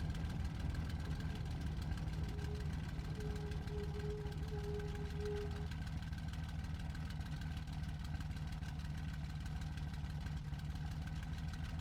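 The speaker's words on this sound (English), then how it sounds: "There's a plane taking off." A propeller aircraft engine drones steadily as a plane takes off in an air combat video game, a continuous low, even hum that runs the whole time without pause, with no talking over it.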